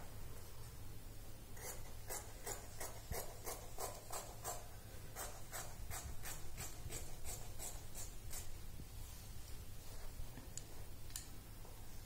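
Scissors snip through blouse fabric in a quick run of crisp, evenly spaced cuts along a straight strip, close and fairly quiet over a steady low hum, with a brief pause midway.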